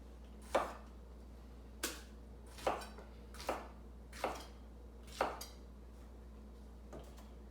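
A knife roughly chopping vegetables and jalapenos on a cutting board for pork carnitas, six sharp, evenly spaced chops landing about once a second, fairly close and clear against a quiet kitchen.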